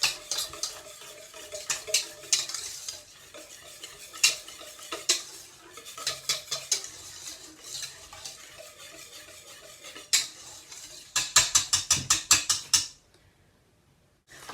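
A spoon stirring and combining pumpkin bread ingredients in a pan on the stove, with irregular scraping clinks and a quick run of rapid taps near the end, close and without talk.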